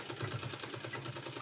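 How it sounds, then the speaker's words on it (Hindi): A sewing machine runs steadily while stitching a fabric strip along the edge of a narrow pant, giving a continuous fast rhythmic whirring chatter close by, with no talk. "हमने कपड़ा का पट्टी लिया है, इसमें इस तरह से रख के और हमको सिलाई लगा देना है"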